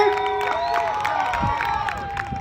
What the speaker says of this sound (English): Clap it up, y'all. Come on, show him some love, man.